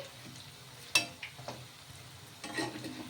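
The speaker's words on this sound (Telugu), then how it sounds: "ఇంకా హైలో పెట్టేసుకుని ఫ్రై చేసేసుకుందాం" Sabudana snacks fry in hot oil in a pan. The sizzle is quiet and crackly, with a few clinks of a spoon or pan and brief stirring bursts.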